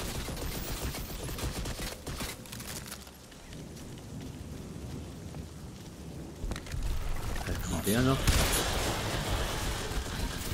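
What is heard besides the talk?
gunfire from video game Crysis 2 Remastered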